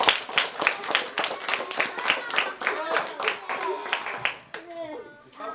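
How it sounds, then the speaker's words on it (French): Children at a holiday day camp clap in quick uneven bursts, close and lively, with kids' voices chattering over and between the claps. "On applaudit bien fort."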